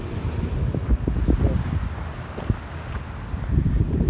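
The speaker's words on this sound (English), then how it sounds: "It's cold. It's windy." Cold wind buffets the microphone in low, uneven gusts at a campground in Death Valley National Park, with faint rustling and a few soft knocks.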